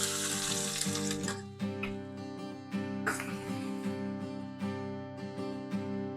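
Chopped onions, about one cup from two onions, go into hot spiced oil seasoned with asafoetida for a Kathiyawadi-style dum aloo and fry with a steady broadband sizzle. A sustained tonal hum runs underneath throughout.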